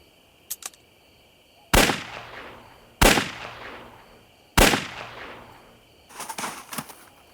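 Three sharp, loud gunshots ring out one after another at steady intervals in a drama scene, each followed by a decaying echo. Faint clicks come before the shots and a burst of rattling follows them.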